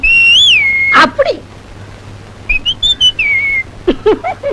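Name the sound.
person whistling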